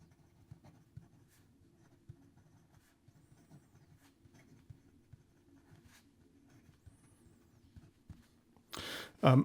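A Visconti Opera Gold fountain pen with a steel nib scratches faintly across paper in soft, irregular strokes, close and quiet, ending with a brief louder rustle or bump.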